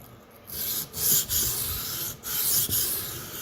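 A Sabatier paring knife is stroked across a Shapton whetstone, giving repeated close scraping rubs in an uneven rhythm with short pauses between passes.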